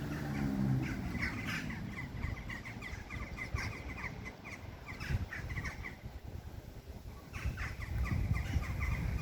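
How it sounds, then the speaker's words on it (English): Pigeons gathered around the old St. Nicholas church building in Whitehaven, a coastal town, giving scattered squawking calls over a rough outdoor wash, near and fairly faint. "the birds always love these buildings, they're pigeons."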